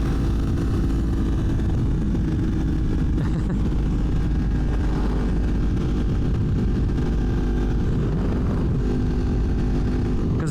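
A Yamaha MT-10 motorcycle engine with a wide-open stubby exhaust and no catalytic converters runs with a steady, loud, low rumble that holds throughout, heard close from the rider's position.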